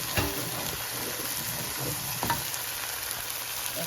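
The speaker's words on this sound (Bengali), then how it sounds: "সরিষা, কাঁচা জিরেটা এটার সাথে আমি হালকা করে ভেজে নেব।" Mustard and raw cumin paste frying lightly in a pan for a Bengali mustard hilsa dish, giving a steady close sizzle with a few soft stirring scrapes and no talk.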